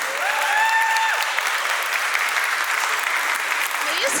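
A crowd claps steadily throughout, dense even applause with a few tonal voice sounds near the start, at a Turkish classical music choir event in London.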